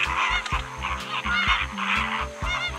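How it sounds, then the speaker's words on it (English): Flamingo honking in a loud, close series of nasal calls that repeat in an uneven rhythm, alone with no talk. "Flamingo."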